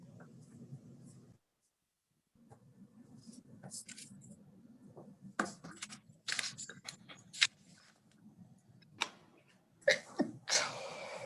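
A single sneeze rings out in a quiet committee session room, followed by scattered clicks, rustles and handling noises at moderate to soft level.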